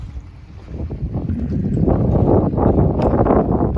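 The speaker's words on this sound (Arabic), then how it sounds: "وهي الامواج البحر" Sea waves rolling in along a park shoreline facing New Jersey, a steady rushing wash with wind buffeting the microphone, swelling louder toward the end with no talk.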